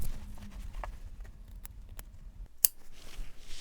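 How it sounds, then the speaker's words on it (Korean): Scissors snip notches into the fabric seam allowance at the deepest point of a V-neck while sewing a flared dress, giving a few sharp, separate clicks in a quiet room, with one snip louder than the rest. "여기 V넥 제일 깊은 부분은 가위밥을 주셔야 뒤집어집니다"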